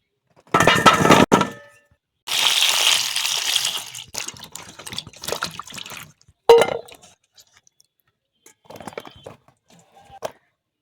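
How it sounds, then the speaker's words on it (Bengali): Peeled, cut pointed gourd is washed in water in a bowl, with bursts of splashing and sloshing, glassy clinks and handling clatter arriving in irregular bouts between short silences. "এবারে আমি ভালো করে জল দিয়ে ধুয়ে নেব।"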